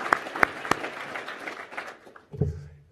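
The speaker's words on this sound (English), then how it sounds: "let me say a round of applause for Dean Poon as" Applause at a university address given for a dean: a few sharp close claps up front, then scattered clapping from the audience that fades out within about two seconds, followed by a brief low sound.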